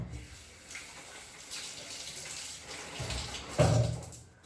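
Tap water runs steadily over a bunch of coriander leaves being washed, a moderate close splashing flow with a brief louder surge near the end.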